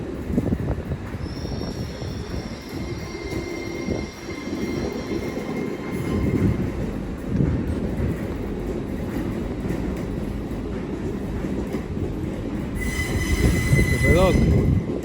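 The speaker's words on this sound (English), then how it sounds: "As a Hammersmith City Line service comes in behind me for parking." A London Underground Hammersmith & City line train pulls into a London terminus, rumbling wheels and a rising metallic squeal near the end, with high whining tones and faint background voices.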